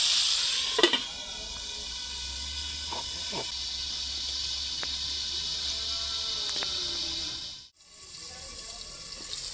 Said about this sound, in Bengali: দেখুন কত সুন্দর আলুটা ভাজা হয়ে আসছে